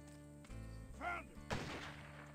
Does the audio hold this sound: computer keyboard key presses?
no